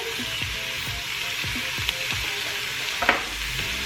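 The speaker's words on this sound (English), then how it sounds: "I'm gonna stir." Short ribs and vegetables with squash sizzle and fry in a pressure cooker pot while being stirred, a steady close crackle broken by scraping stirs and a louder clack near the end.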